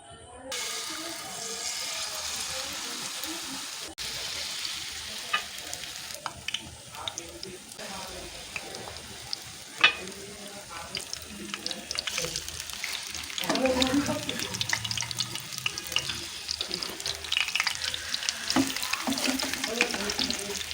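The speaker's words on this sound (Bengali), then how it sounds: "একটু ব্রাউন করে ভাজলেই হয়ে যাবে" Batter-dipped bread slices fry in a little oil in a pan, a soft continuous sizzle with scattered taps and scrapes, growing louder and busier midway, while a voice talks at times.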